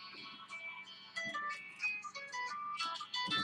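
A phone ringtone plays as a melodic electronic tune with bright chiming notes repeating in quick phrases, close and fairly loud, with no voices over it.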